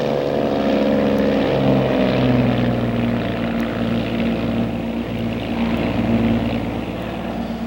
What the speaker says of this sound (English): Twin Bonanza 6906 Tango's airborne 25 left.